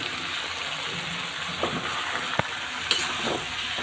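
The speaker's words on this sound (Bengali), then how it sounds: "এবার দিয়ে দিচ্ছি বাঁধাকপি এবং আলু গাজর সিদ্ধ করে রাখা।" Cabbage with boiled potato and carrot dropped into frying spices, a steady loud sizzle with a few soft stirring knocks and clicks, no voices present.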